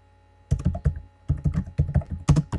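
Rapid bursts of keystrokes on a computer keyboard, close and crisp, in two quick clusters separated by a short pause, with no talk.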